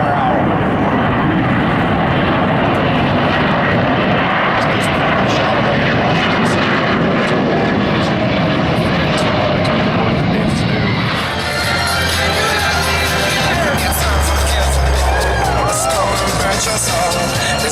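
A propeller airplane flies past at the 2014 Miramar Airshow, a loud, sustained engine roar that shifts in tone as it passes, with crowd noise and a voice talking over it.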